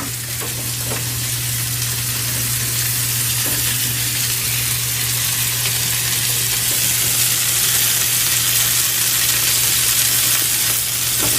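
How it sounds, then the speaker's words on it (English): Chicken sauteing in a pan, giving a steady, loud, close sizzle and crackle of hot oil that runs unbroken throughout, with a constant low hum underneath and no talking. "I'm sauteing them inside to get this brown coating"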